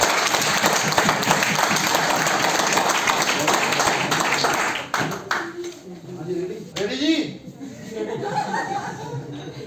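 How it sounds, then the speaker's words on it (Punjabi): Audience applause at a student comedy skit staged by Punjabi University, Patiala students: dense, steady clapping fills the first five seconds, then thins out as voices and music take over. "ਇੱਕ ਤਾੜੀ ਖੁੱਲ ਕੇ ਲਾ ਦੋ"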